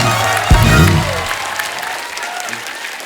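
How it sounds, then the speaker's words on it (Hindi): Studio audience applauds the guests on a comedy talk show, a brief burst of clapping under music and a low thump that fades over a few seconds. "एक बार जोरदार तालियां हमारे मेहमानों के लिए"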